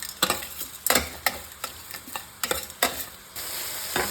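A spoon stirs moong dal and methi leaves frying in a pan, making a steady sizzle broken by sharp scraping strokes against the metal at an irregular rhythm, close up and without voices.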